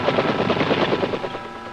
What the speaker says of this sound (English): In spite of heavy ground fire, Army aviators get in with their dust-off helicopters